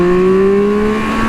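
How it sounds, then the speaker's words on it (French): Triumph Speed Triple 1200 RR motorcycle engine pulling hard in track mode, a loud close steady drone with tones that climb slightly over a short burst of acceleration. "Je viens de mettre le mode track, il y a quand même une meilleure réponse des gaz à l'accélération."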